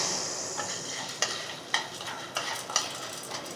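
Popcorn kernels are stirred through melted butter in a pot: a sizzling bed of sound with regular, close scraping strokes roughly every half second, and no talking.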